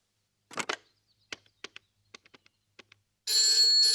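A telephone handset gives a string of sharp, irregular clicks and taps, then a loud, steady electronic ring tone cuts in and holds to the end.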